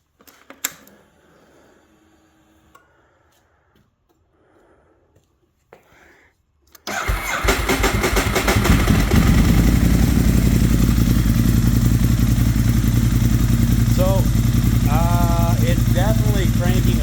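A Ducati 1098 motorcycle with a new Yuasa battery fitted cranks and fires up after several seconds of near silence with faint handling noises, then settles into a loud, steady idle that continues to the end, with some faint talk.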